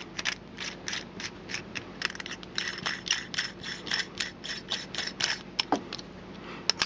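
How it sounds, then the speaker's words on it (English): Top cap being screwed back onto a Sigelei #19 vape mod: a steady run of small, rapid clicking and grinding ticks from the threads, close and fairly quiet, with no voices. "Screw the top in. Tighten it all up."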